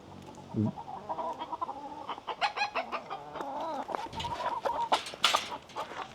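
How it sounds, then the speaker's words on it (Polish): Several chickens and roosters clucking close by, a busy run of short overlapping clucks and squawks with no speech over them. "Masakra z tymi kogutami, kurami"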